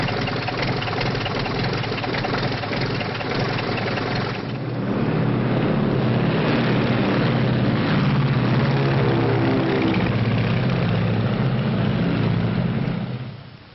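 A propeller airplane engine runs on the ground before takeoff. Its continuous drone grows fuller and louder after a few seconds, then holds a steady, throbbing tone with no voices.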